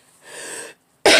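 A single sharp human cough bursts out loud and close after a short stretch of soft breathy noise and a pause.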